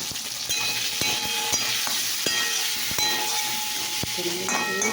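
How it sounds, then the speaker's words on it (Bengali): Pointed gourd frying in a pan, a steady close sizzle with faint hiss running throughout, broken by occasional sharp clicks of stirring against the pan. "তো ভাজতে থাকছি, তোমরা দেখতে থাকো।"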